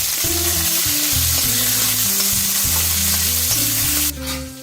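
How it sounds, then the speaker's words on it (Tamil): Small onions and garlic sauté in a pan for a spicy lunch curry, giving a loud, continuous close sizzle under a steady tonal backing. "நல்லா வாசனை வர வரைக்கும் வதக்கி விட்டுட்டு சின்ன வெங்காயம் சேர்த்துக்கிறேன்"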